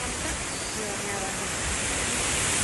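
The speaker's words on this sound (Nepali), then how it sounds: "यो झरना आयो झरना पानी झरिरहेको" A roadside waterfall, water crashing down in a loud, continuous broadband rush that holds steady, heard up close with no other sound standing out.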